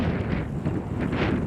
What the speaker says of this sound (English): And the wind not letting up at all.